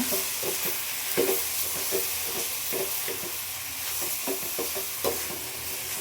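Spiced masala for a village-style onakari fish fry stirred in a pan, a steady hiss and sizzle with repeated scraping strokes of the spoon, close and continuous.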